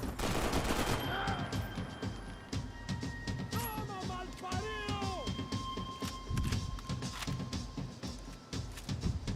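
Gunfire in the video game Max Payne 3, a dense run of sharp shots and bursts across the whole stretch, loud and continuous, with tonal game effects mixed in.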